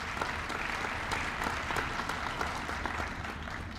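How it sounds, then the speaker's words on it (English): An audience at a county freeholder meeting applauds a newly sworn-in mayor, with dense continuous clapping from a sizeable crowd, loud and steady throughout with no talk over it. "I think we should give him a round of applause"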